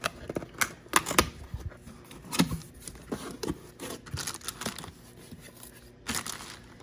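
Product packaging for a Fanttik T8 Apex jump starter is pulled open by hand, giving a close series of crinkling, tearing and rustling bursts of cardboard and plastic in an irregular rhythm with no speech.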